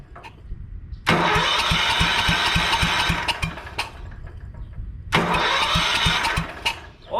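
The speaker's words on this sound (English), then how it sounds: "This is gonna be attempt number 1 at starting the 1971 Wheelhorse 8." A 1971 Wheel Horse 8 lawn tractor with a 14 hp engine cranks on its starter in two long, loud, whirring bursts with a pulsing rhythm. A short pause separates them, and the engine does not catch.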